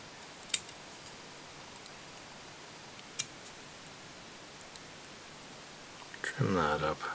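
Small scissors snip the tying thread at a fly-tying vise while finishing an Alexandra needle tube fly, giving a few sharp, quiet clicks in a hushed room before a louder rustle at the end.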